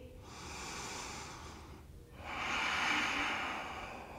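Slow, steady breathing during a vinyasa yoga flow: a long, soft airy inhale, a brief pause, then a fuller, louder exhale, close and quiet with no talking.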